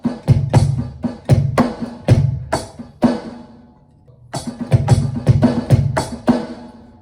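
A drum kit plays a halftime samba-style groove: punchy kick and snare hits with bright cymbal wash, a short gap before the pattern resumes, loud and close with no talking.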